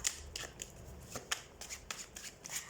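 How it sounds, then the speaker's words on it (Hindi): Tarot cards being shuffled by hand in quick, soft, irregular riffles and slaps, close but faint, with no talking. "तो सबसे पहले हम कार्ड शफल कर लेते हैं सजिटेरियस"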